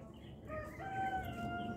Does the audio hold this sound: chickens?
yes